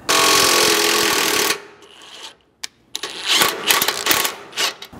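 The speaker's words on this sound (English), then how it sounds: "you can apply pressure to the impact and run this in to cut your 1/2 inch thread" An impact driver runs a thread-cutting bolt into a Nissan Frontier truck frame: a loud, dense burst of hammering for about a second and a half, then a pause, then a further series of shorter rattling impacts.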